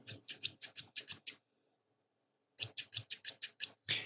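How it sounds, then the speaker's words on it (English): Scissors snip in two quick runs of about eight crisp, evenly spaced cuts, close up, separated by a short silence. "There's something really satisfying about the sound of scissors."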